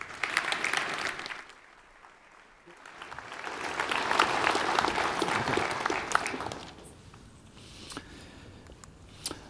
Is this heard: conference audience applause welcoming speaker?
yes